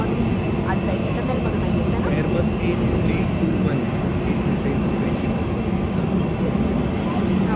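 A steady, loud rumble of airplane engines drones on without break, with faint voices murmuring underneath.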